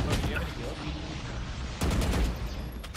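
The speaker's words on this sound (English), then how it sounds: "I airstrike him." Airstrike ability explosions in the video game Valorant, a sustained roll of loud gunfire-like blasts with a sharp new burst about two-thirds through, mixed with game noise.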